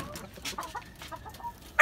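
A hen on a rooftop farm clucks in a few short, close, moderately loud calls, with a louder squawk at the end.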